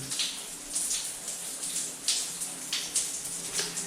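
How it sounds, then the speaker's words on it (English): Water runs steadily through a Moen 1222 cartridge shower and tub valve, a soft continuous hiss broken by irregular splashy drips, close and moderately quiet. "waters are still flowing through. So I'm gonna let that drip for a little bit"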